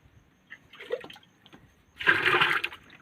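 Water poured from a jug into a container of pesticide mix, a short trickle followed by a louder, sustained splashing pour lasting about a second, close by with no talking.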